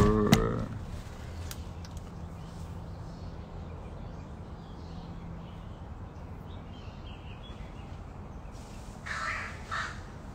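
Big crows caw loudly and close at the start, a few harsh calls in quick succession, then the air settles to quiet outdoor background before fainter caws return near the end.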